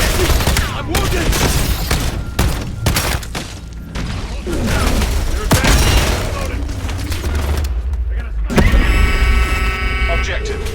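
Video game gunfire in Black Ops 7: a dense, loud fusillade of shots and booms with shouting voices over it, ending in a short stretch of tonal, mechanical sound.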